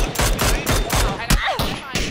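Rapid bursts of gunfire in the battle royale game PUBG crack out in quick succession over two seconds, loud and close, with a voice briefly heard between shots.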